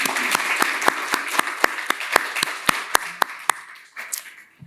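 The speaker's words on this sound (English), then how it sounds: "I want everybody to join me in a round of applause for Ms. Danielle Parker." Applause rises in a room at an economic development gathering as a speaker is thanked: sharp, evenly spaced claps ring out alongside a softer wash of clapping, then fade after about four seconds.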